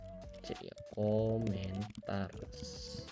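Rapid clicking on a computer keyboard, heard faintly beneath someone talking almost throughout.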